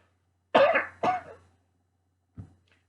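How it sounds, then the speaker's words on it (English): Two sharp, harsh asthmatic coughs in quick succession, followed after a pause by a single fainter cough, close to the listener in an otherwise quiet room. "Coughing my head off still"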